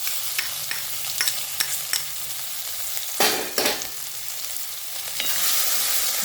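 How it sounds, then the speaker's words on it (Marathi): Ginger-garlic paste sizzles in a pan with green chillies, a softer crackle with sharp spoon scrapes and clicks near the start, then a louder burst of sizzling near the middle and a steady hiss at the end. "आलं लसूण पेस्ट टाकत आहोत आपण"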